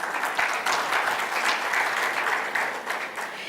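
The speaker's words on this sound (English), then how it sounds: "That also deserves a round of applause." A conference audience applauds a strategic outlook presentation at the EBID session of EIF2024, with dense, steady clapping that fills the whole stretch at an even, fairly loud level.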